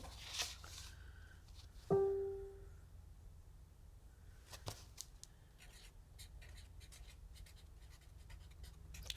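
Someone writes by hand with a pen on paper during a crafting livestream: faint, scratchy strokes in short bursts over a quiet room hum, with one louder knock near the start.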